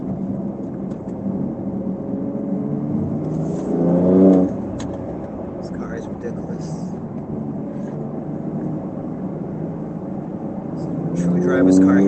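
A Porsche 992 Turbo S engine on a night drive hums with a low, steady drone, swelling into two brief revving surges, heard from inside the car.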